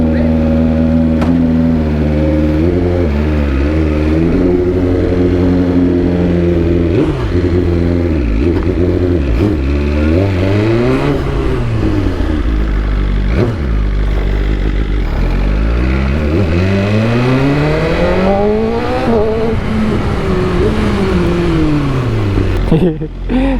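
BMW M1000RR superbike engine revved hard again and again, its pitch sweeping up and falling back in repeated loud, close bursts with idle between them.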